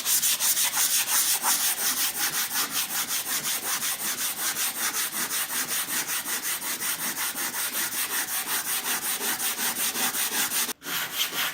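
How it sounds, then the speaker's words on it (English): Sanding a wooden end table by hand with 150 grit sandpaper: steady rhythmic back-and-forth rasping strokes, close and loud, continuing without pause apart from one brief break near the end. "I'm just starting out with a 150 grit, and then I'm going to switch to 220."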